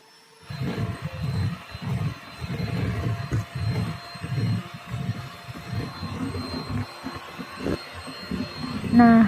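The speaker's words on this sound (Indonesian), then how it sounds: "ini akan kita mixer dengan kecepatan maksimal sampai gulanya" An electric mixer beats sugar at maximum speed for a cake batter, a steady pulsing whir that rises and falls in rhythm with the beaters for several seconds, close and moderately loud.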